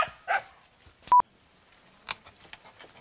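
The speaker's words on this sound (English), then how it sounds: "There's always dogs. Everywhere we go, there's always dogs, Vinny." Dogs bark outdoors in Ecuador, a few sharp separate barks with short pauses between them, fairly close, with no talk.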